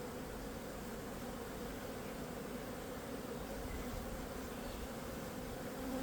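Dense, steady humming and buzzing from many honeybees around a hive preparing to swarm, a continuous close drone with no pauses.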